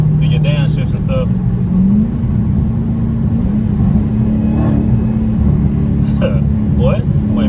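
A Dodge SRT Hellcat accelerating and holding each gear for a long stretch, its engine droning as a loud, steady low rumble with brief shifts. Heard from inside the car, with someone talking over it.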